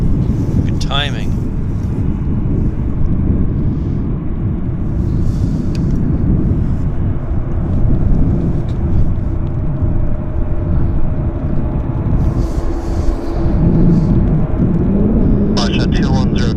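A Boeing 787 Dreamliner starts taxiing at a wet YVR, its steady engine rumble heard from a distance beneath close wind noise, with a voice talking over it.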